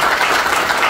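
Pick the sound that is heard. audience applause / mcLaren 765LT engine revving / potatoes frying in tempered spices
audience applause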